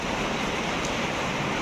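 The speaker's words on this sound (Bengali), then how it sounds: "কি অবস্থা দেখো, বৃষ্টি নেমে গেছে" Rain pours down in a continuous, even hiss that fills the whole stretch with no voices over it.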